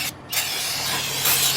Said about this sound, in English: We're just going to spray down the inside of the drum.